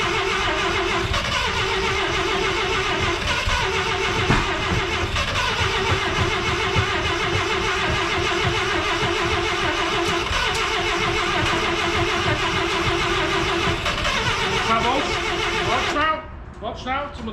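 An engine turns over and keeps running loud and steady close by for most of the time, with people talking over it, before it cuts out near the end.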